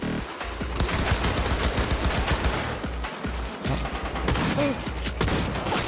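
Sustained automatic gunfire in Cyberpunk 2077 Phantom Liberty, dense rattling bursts lasting several seconds, loud and up close, with brief gaps between volleys.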